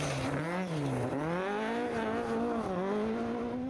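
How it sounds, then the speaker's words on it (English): A two-wheel-drive Ford Escort rally car tears along a gravel forest stage, its engine revving up and down through the gears as it passes at a moderate distance, with no voices. "Joe Hegarty is the current two-wheel drive champion and certainly enjoying the gravel track in his Ford Escort"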